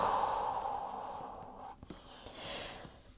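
A voice imitates a butterfly snoring with a long, airy, sighing exhale, followed by a few soft snorts and breathy puffs, close and quiet.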